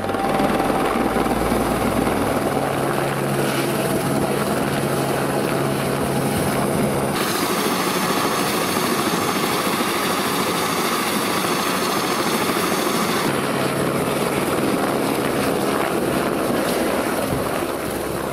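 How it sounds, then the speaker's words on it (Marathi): A helicopter circles during an evacuation on Mount Everest, its steady engine and rotor drone loud and continuous throughout, with no voices. "त्यांना हलवण्यासाठी हेलिकॉप्टर घिरट्या घालू लागली."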